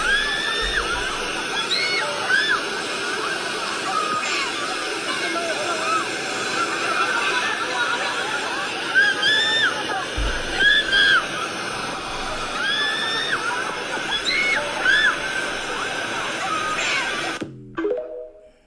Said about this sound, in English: That scream alone took me out.